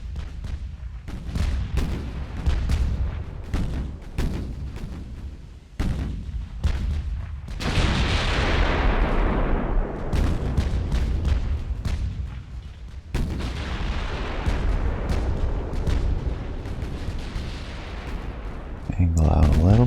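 Naval 6-inch gunfire in the Ultimate Admiral: Dreadnoughts game: repeated heavy booming shots and rumbling blasts through a sustained battle din, loud and dense, with a voice occasionally talking.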